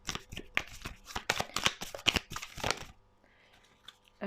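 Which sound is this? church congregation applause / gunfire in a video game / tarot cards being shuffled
tarot cards being shuffled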